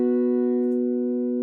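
Sustained ambient feedback guitar drone from a sample library, a steady held tone with stacked harmonics ringing evenly and alone, close and moderately loud with a gentle reverb tail and no attack.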